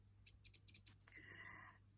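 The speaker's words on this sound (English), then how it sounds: "These are little snips." Small thread snips cut sewing thread at a sewing machine: four or five crisp, quick metallic clicks close by, then a soft rustle, in a quiet room.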